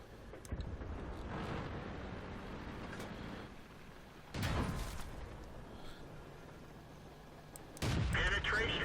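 Artillery and tank guns fire in a World of Tanks battle, three sharp loud blasts spaced several seconds apart over a constant engine rumble, with a voice talking faintly in between.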